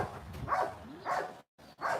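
A dog gives three short, fairly quiet barks spaced about half a second apart, with a brief silent gap before the last one.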